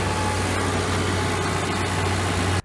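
Tractor engine idling steadily at close range, a loud constant low hum with a steady drone that runs unbroken for over two seconds, then cuts off abruptly at the end; no voices.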